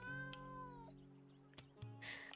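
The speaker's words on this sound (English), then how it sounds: "A cat." A cat in an adventure video game gives a clear, close meow with a rising, bending pitch, followed by shorter mews. Steady game tones hum underneath throughout.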